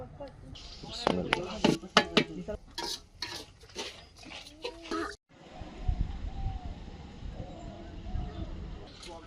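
A large pot of chicken being cooked for a picnic is stirred with a metal spoon, giving repeated sharp scrapes and clanks over a sizzle, then a quieter stretch of frying noise, with people talking nearby.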